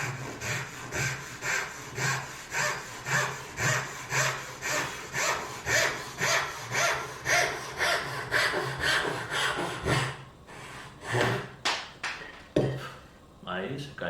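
A coarse-toothed hand saw cuts a wooden tenon for a blind mortise and tenon joint in steady, rhythmic rasping back-and-forth strokes, loud and close. The sawing stops and a few knocks and wooden clatters follow, with someone talking at times.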